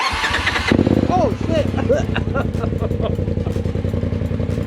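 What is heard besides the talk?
Polaris RZR Turbo engine starting with Trinity Racing exhaust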